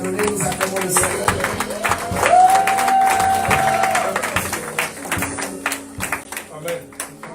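Church congregation applauding and cheering during a Sunday worship celebration, a steady mix of clapping and crowd voices with a sustained tone rising in the middle, voices speaking throughout.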